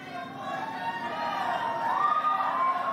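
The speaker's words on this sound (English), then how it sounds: "It's an amazing crowd." Large rally crowd at a pro-life political event, a broad steady wash of chatter and cheering that holds fairly constant and swells slightly toward the end, with a faint siren-like tone rising near the close.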